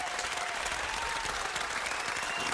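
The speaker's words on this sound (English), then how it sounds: "Big round of applause real quick for me." A studio audience claps in a dense, steady round of applause, loud and continuous with no pauses and nobody talking over it.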